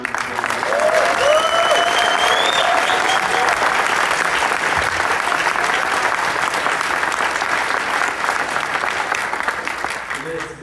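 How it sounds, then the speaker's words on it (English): A conference audience breaks into sustained, dense applause at an unconference event, loud and steady throughout with a few voices and whistles mixed into the clapping. "But can we just give Jack a huge round of applause?"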